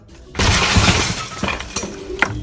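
A glass showcase shatters under falling concrete blocks: a sudden loud crash, then a spray of breaking glass and scattered tinkling shards settling for a couple of seconds.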